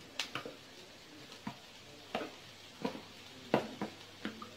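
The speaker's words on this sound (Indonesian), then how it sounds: "kita masukkan daging asapnya ya kita masukkan daging asapnya" Smoked meat hits a pan and is sautéed, giving a series of sharp scraping and sizzling bursts spaced irregularly over a quiet background, several clear clatters of stirring standing out.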